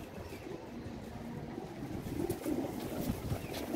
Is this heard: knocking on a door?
no